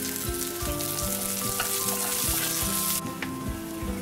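Onions added to garlic in a hot pan sizzle and fry loudly up close. The steady crackle is broken by regular rhythmic scrapes as the mix is stirred, and no voices are heard.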